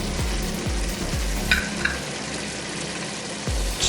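Beef stroganoff simmers and sizzles in one pot, a steady close crackle with a few low scraping bumps from stirring and brief clinks partway through.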